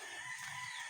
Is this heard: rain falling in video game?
no